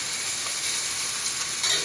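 Breaded tilapia fillet pan-frying in oil, a steady dense sizzle and crackle held close and fairly loud, swelling slightly near the end, with no voices.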